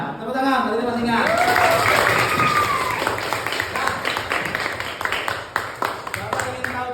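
Students in a classroom break into a burst of applause that fades into scattered clapping and taps, with a teacher's voice speaking over it.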